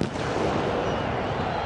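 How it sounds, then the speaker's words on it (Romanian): Firecrackers set off by football fans in a stadium sector during a Romanian SuperLiga match, heard as a sharp burst at the start and then a dense roar of crowd and crackle. "Acele petarde pleacă din sectorul arădenilor."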